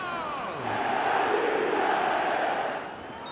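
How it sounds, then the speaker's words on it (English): A stadium crowd in an eFootball video game chants and roars as one steady, loud wall of voices for about three seconds, swelling and then easing off slightly near the end. "The crowd are calling for this to be put to bed."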